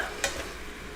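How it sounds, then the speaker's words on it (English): A spatula stirs food in a frying pan over a steady, close sizzle, with one brief scraping sweep standing out near the start. "I'm going to grab a spatula here, and we're just going to kind of stir this up a little bit"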